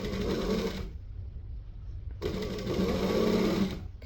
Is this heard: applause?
no